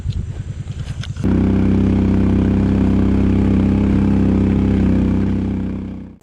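An overheated Kawasaki Brute Force ATV engine sits idling close by. Brief rapid putters give way to a loud, steady, dense rumble that fades at the very end, with no talking.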